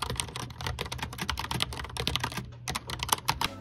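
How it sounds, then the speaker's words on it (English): Rapid clacky keystrokes on a typewriter-style mechanical RGB keyboard, close up, in quick uneven bursts with a brief pause partway through. "This is a mechanical RGB keyboard with a typewriter style feel."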